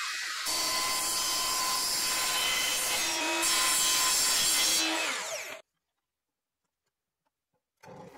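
An Evolution multi-material saw blade cuts through wood in one long continuous loud grinding pass, then stops abruptly, followed by silence and a brief restart at the end.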